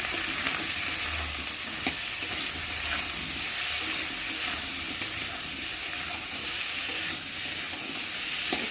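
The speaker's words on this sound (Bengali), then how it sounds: "এবার নুন দেবো পরিমাণ মতো, আর দেবো হলুদ গুঁড়ো আর দেবো লঙ্কার গুঁড়ো, দিয়ে ভালো করে কষিয়ে নেব।" Potatoes with ginger paste, salt, turmeric and chili powder sauté in hot oil with a steady bright sizzle, broken by occasional scrapes and stirs of a spoon across the pan; no one speaks.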